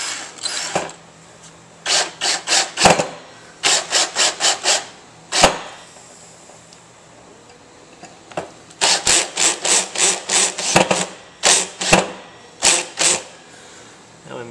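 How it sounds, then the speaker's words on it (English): A hand screwdriver drives screws to fasten BJB connectors onto a heatsink, producing loud, close, rapid bursts of rasping clicks in quick rhythmic groups, separated by short pauses. "And we screw it down with our screwdriver."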